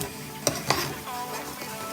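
A metal soup ladle stirs brown sugar melting with boba in a pan, giving two sharp scrapes and clinks over a soft sizzle.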